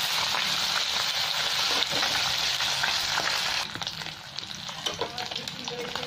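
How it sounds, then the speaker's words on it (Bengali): Fish pieces fry in hot mustard oil with a loud, steady sizzle and crackle, with occasional stirring scrapes; the sizzle eases slightly partway through but continues throughout. "এখন ভেজে নেবো, সরষের তেল দিয়েছি, সরষের তেলের সবগুলো ভেজে নিচ্ছি।"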